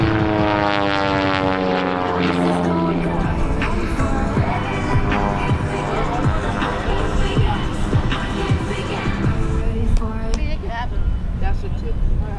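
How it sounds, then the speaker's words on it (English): An aerobatic airplane performs at an air show, its propeller engine droning loud and steady throughout with a pitch that rises and falls as it maneuvers. "the unique brand of aerobatic flying that you're watching"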